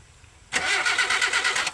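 A Proton Wira with a fault where the hot engine suddenly dies cranks and catches after a quiet pause, then settles into a steady, close, fairly loud run with a rhythmic pulsing.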